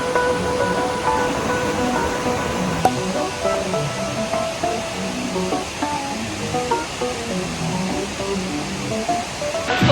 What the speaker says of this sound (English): The waterfall looks pretty amazing.